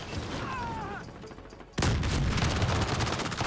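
MP7 submachine gun fire in Call of Duty: Modern Warfare. A quieter stretch with game tones gives way to a sudden, loud, sustained barrage of rapid shots and blasts that fills the rest of the moment.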